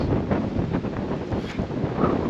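Strong wind in the Flinders Ranges outback buffets the microphone in a constant, roaring rumble with gusty surges and no voices.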